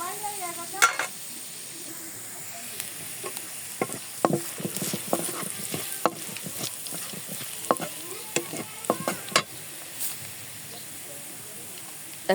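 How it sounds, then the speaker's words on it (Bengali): Crushed garlic sizzles in hot oil for a tempering step, a steady frying hiss with scattered stirring clicks and scrapes, close and moderately loud, while a voice talks intermittently over it. "তেলের ভিতরে আমি থেতো করা রসুন দিয়ে দিয়েছি।"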